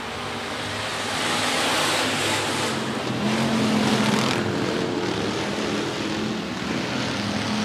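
Hobby stock cars racing in a heat race at Rapid Speedway, engines roaring together as a loud continuous rumble that swells as the pack passes.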